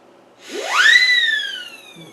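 A World War I gas warning whistle gives a single loud, rising shriek that glides up, holds, then slowly tails off over about a second and a half, close and alone.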